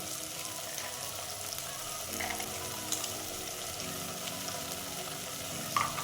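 Carrots, potatoes, peas and peanuts fry together in a little oil, making a soft, continuous sizzle with occasional light stirring clicks and scrapes, fairly quiet throughout.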